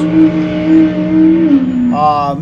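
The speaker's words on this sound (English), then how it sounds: "We got the Jeepster just going back on the track, number 1715, Hunter Wright coming out of the pits" A loud, close engine drone comes from a Jeepster off-road comp truck leaving the pits at a desert off-road race in Powell, Wyoming, its pitch sliding down before it climbs again under acceleration, with an announcer talking over it.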